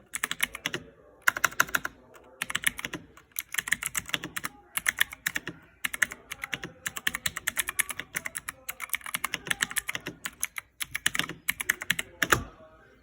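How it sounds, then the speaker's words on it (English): Fast, heavy typing on a mechanical keyboard with Cherry MX Blue switches, dense clattering keystrokes in bursts with brief pauses, loud and close. "Here's how it sounds with heavy typing."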